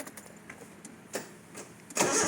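Nissan C22 Vanette engine cranking with several short starter bursts, then catching and firing up loudly near the end, close by.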